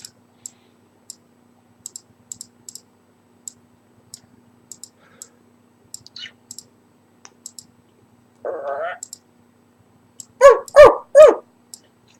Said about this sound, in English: You're hearing lots of barking, parts of that weird barking again